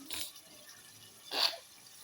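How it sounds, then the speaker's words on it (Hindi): Water poured into a pot of frying potatoes gives two short sizzling hisses, one at the start and one near the end, faint and close with quiet gaps between. "अब इसमें मैंने पानी ऐड कर दिया है।"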